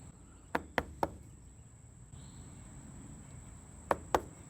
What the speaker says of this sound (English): I'm kind of thumping, knocking off the extra paint after my swipe.